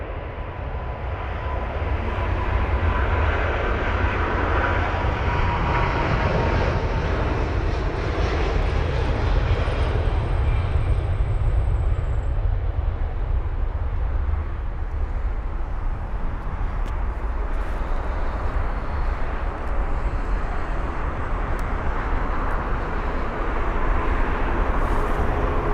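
A British Airways Airbus A350-1000 airliner at London Heathrow, flight BA 289 bound for Phoenix, gives a loud, continuous broadband jet engine roar that holds steady for the whole stretch, with no talk.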